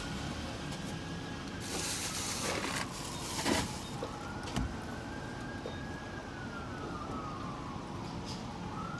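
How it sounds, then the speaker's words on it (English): A distant siren wails, rising and falling slowly over steady traffic rumble, with a couple of brief louder bumps. "I hear a siren."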